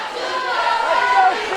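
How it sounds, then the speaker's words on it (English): Crowd cheering from the stands at a Little League World Series softball championship game, a steady broad roar of many voices with shouts rising and falling throughout. "A lot of them cheering in the stands right now."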